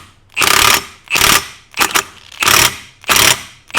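Impact wrench hammering a nut tight on a Honda 400EX ATV engine, five loud bursts of about half a second each, rattling and separated by short pauses.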